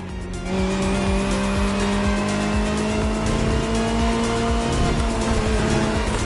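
Supercars such as a Ferrari 488 GT3, McLaren Senna GTR, Bugatti Bolide and Lamborghini Essenza racing in The Crew Motorfest video game, engines roaring steadily with a high whine and tire squeal, loud and continuous.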